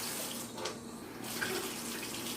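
A water tap running into a sink for handwashing, a steady soft splashing stream at close range with slight changes in flow, quiet and continuous.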